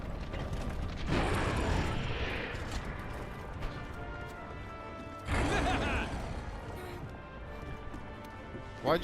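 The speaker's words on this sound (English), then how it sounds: "Why'd you stop loading the cannon?" A cannon being loaded in Monster Hunter World, with clanking, ratcheting mechanical noises that come in two louder heavy bursts over a steady background of game sound.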